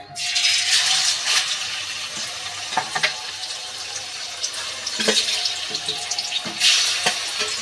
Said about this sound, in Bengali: এবার ছাঁকা তেলে আমি ভেজে নেব, তেলের মধ্যে দিয়ে আমি ভেজে নেব মাংসটা।